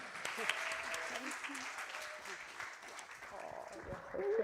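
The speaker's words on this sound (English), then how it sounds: "Please give a great round of applause for Malika Davi." A Sunday celebration audience at a spiritual center claps steadily for a newly introduced speaker, a broad even patter of hands lasting several seconds, fairly quiet and distant, with some whoops and voices mixed in.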